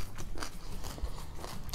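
Homemade three-day sauerkraut is bitten and chewed close up, giving repeated moist crunches at an uneven rhythm, with no talking.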